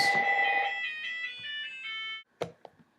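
A phone rings loudly with a steady electronic tone that holds for about two seconds, heard during a bench-press workout while plates are repped. After it stops come a couple of short knocks.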